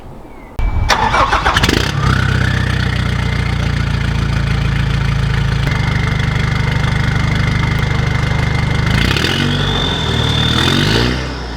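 A Nissan YD25 diesel engine with an upgraded turbo running over 25 psi cranks and catches, then settles into a loud, steady idle with a deep rumble and a faint whine, revving briefly near the end.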